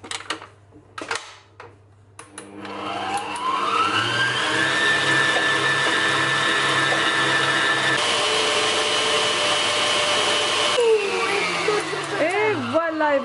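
An electric mixer blends mashed banana batter for homemade snacks. A few knocks come first, then a loud, continuous whirring motor starts after about two seconds and runs steadily, shifting pitch near the end.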